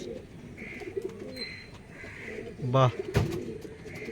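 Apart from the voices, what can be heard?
pigeons cooing, Andhra pigeon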